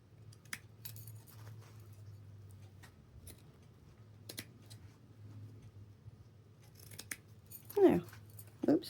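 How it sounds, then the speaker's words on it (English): Scissors snip through the material of a lunch bag in sparse, quiet cuts over a low steady hum, with a louder crisp snipping burst near the end. "I'm just going to cut it off to right here."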